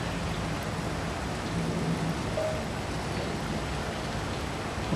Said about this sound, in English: It's raining now, though,